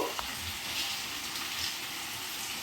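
Chicken pieces frying in a pan for a chicken, dosakai and tomato curry, a steady close sizzle with faint scraping of stirring throughout.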